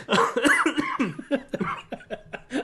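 A close, loud fit of repeated coughing, harsh bursts coming one after another with short gasps between them.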